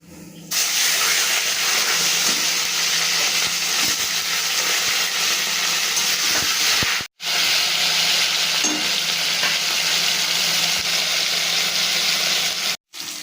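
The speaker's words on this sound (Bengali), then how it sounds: "এবার তেলের মধ্যে আমি মাছের মাথাটা দিয়ে ভালো করে ভেজে নেব" A fish head fries in hot oil with a loud, steady, crackling sizzle that carries on for several seconds, cut by two brief silent gaps.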